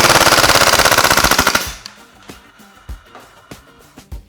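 A Kingdom Technology Tec 9 gas blowback airsoft gun fires a loud, rapid full-auto burst of sharp cracks lasting about a second and a half. Several softer clicks and thumps of handling follow.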